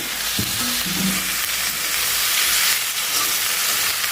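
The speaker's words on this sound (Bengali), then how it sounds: "প্রথমে হলো ভাজিটা করে নেব ভাজিটার আজকে আলুটা আমি অসলা দিয়ে দিছি" Potatoes frying in a pan for a mixed vegetable bhaji give off a steady, close hiss of sizzling oil, with a few brief stirring knocks near the start and no voices.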